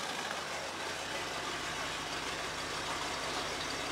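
The 360 V8 engine of a Dodge Ram church van idles with a steady, even broadband rumble, constant and fairly close, with no other sounds.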